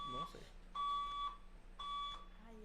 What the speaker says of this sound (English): the fire alarm's going off.